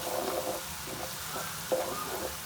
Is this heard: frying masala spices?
yes